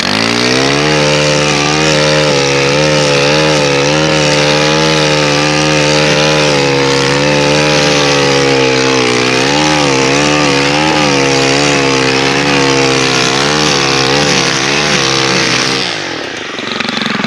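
A Stihl FS 131R four-stroke brush cutter runs at full throttle, producing a loud, steady, buzzing engine whine with slight pitch wavers that holds for most of the clip before dropping away abruptly at the end.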